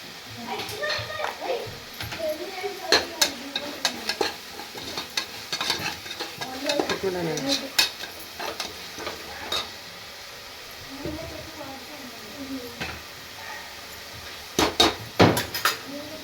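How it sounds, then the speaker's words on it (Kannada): Ingredients for chicken biryani fry in oil in a pan, with a soft sizzle under repeated scrapes and clatters of stirring, while a voice talks throughout. "ಈಗ ಇದನ್ನು ಚೆನ್ನಾಗಿ ಫ್ರೈ ಮಾಡ್ಕೊಳ್ಳಿ"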